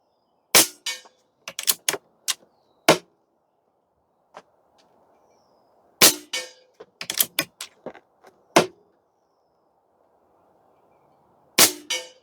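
Shots from a .25 caliber Barra 250Z air rifle firing 29.5 grain NSA slugs: sharp, loud cracks in separate clusters, with two or three quick reports in a row, then pauses and a faint low hum between.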